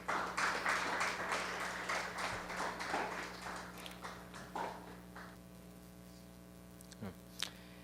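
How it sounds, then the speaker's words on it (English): Audience claps for an honoree at the 38th Quaid-e-Azam Awards ceremony: dense applause that is loud at first, then thins into scattered claps and fades, over a steady electrical hum. "please give her a round of applause."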